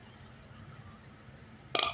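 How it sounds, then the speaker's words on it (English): A short, loud burp from an upset adult bursts out near the end, over a quiet room hum, right after a complaint about a pool refurbishment. "when I get upset, I burp"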